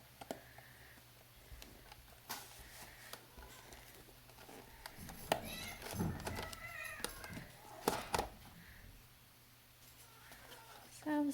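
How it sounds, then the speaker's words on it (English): Distant cats yowl and snarl in scattered bursts, rising to a brief squabble midway, with quiet background noise and faint speech. "Sounds like a cat fight."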